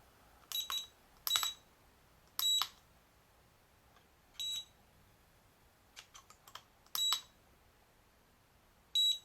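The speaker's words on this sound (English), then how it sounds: "So it'll beep to let you know that it's waiting to flip" A Cheerson CX-10 quadcopter, a tiny 2014 drone, gives short high electronic beeps in flip mode, arriving in irregular bursts of one or two chirps with quiet gaps between, faint and alone with no talk.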